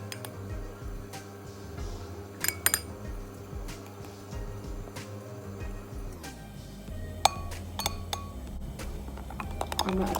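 A metal spoon clinks against a glass while corn starch is stirred into half a glass of milk, giving sharp irregular taps and scrapes under a low background hum.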